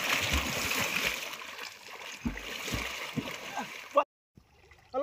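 Water splashes and gurgles in a village river as people stand on stones in the current, with intermittent close splashes under talking and a sudden cutout near the end.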